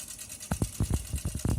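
A small Stirling engine sitting on dry ice runs with soft, rhythmic mechanical thumps and clicks, about five or six beats in under two seconds over faint background hiss.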